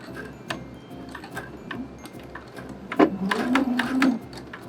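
A sewing machine stitching and back stitching fabric, its rapid regular needle ticking running steadily, then a louder, busier stretch of stitching near the end, close by.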